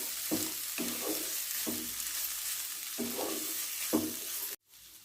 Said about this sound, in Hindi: और इनको हम तब तक फ्राई करेंगे जब तक कि इनका पानी खुश्क ना हो जाए